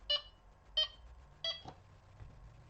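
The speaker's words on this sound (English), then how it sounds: "Beep speed 8 is on maximum, we'll just be going crazy. There you go, loads of beeps." A Delkim Txi-D carp-fishing bite alarm set to beep speed 8 gives three short, bright electronic beeps at an even pace, each clear and close but fairly quiet, with only faint handling noise between them and no speech.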